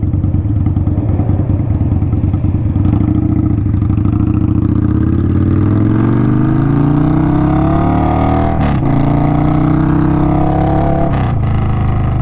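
Indian Scout Bobber motorcycle fitted with Progressive 444 suspension, ridden with a loud, steady engine drone and rising pitch as it accelerates, heard up close over constant road and wind rumble.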